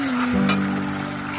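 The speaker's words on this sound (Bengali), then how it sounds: "চিকেনটা ভালো করে আমি কষিয়ে নিচ্ছি।" Chicken being sautéed in a pan with a little water, cumin powder and spices, gives a steady close sizzle with a brief stirring scrape near the start and no talking.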